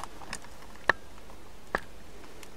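Renault Trafic van driver's door locking: two short, sharp mechanical clicks about a second apart, fairly faint over a quiet background.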